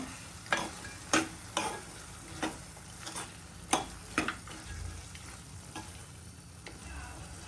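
Bommidai dry fish simmering in tomato for a dry fish curry, a steady soft sizzle with a handful of sharp spoon taps and scrapes against the pan spread across the stretch.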